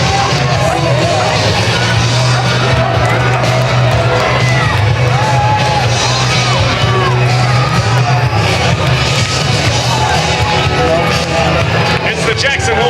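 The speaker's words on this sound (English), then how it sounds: "Give them a round of applause." Crowd lining a Fourth of July parade route in Jackson, Wyoming, clapping, whooping and cheering continuously and loudly, with shouts and voices mixed through the noise.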